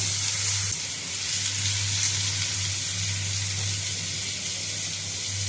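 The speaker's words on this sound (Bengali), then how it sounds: "মাছের সামান্য একটু তেল আছে, সেই তেলটা এর সঙ্গে একটু ভালো করে সাইডে ভেজে নেবো" Small-cut potatoes frying in leftover fish oil with turmeric, chili paste and salt, a loud, continuous close-up sizzle with a steady hiss throughout, no voices.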